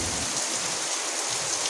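Heavy rain pours down over a village, a dense, steady hiss of drops drumming on surfaces, close and continuous for a brief stretch with no voices.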